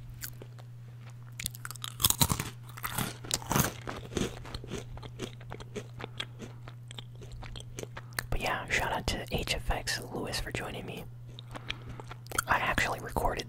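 Crunchy pretzels are bitten and chewed close to the microphone with loud, sharp crunches and wet chewing, over a steady low hum, while a person whispers in between.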